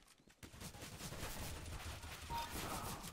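Rapid bursts of gunfire from Counter-Strike: Global Offensive, a dense fusillade of shots that starts abruptly after a brief quiet moment and continues loudly and steadily throughout.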